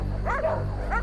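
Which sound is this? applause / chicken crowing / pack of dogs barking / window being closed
pack of dogs barking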